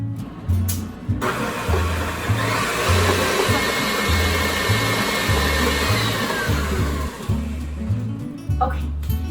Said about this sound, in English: Beat in gradually a scant 2 cups of sugar and beat for 2 minutes.